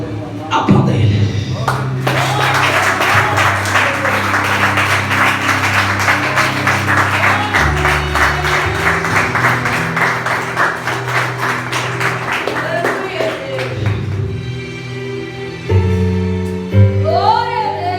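A church congregation applauds for a long stretch, dense clapping running under loud amplified preaching and background music. The clapping fades near the end.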